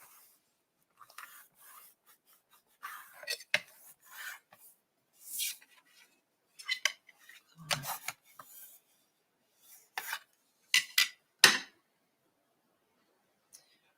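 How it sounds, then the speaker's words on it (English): A tool burnishing paper scraps for an All American mini album makes quiet, intermittent dry rasping rubs in short strokes of varying length, spread out with pauses between them. "And turn it over, and we can just burnish it again."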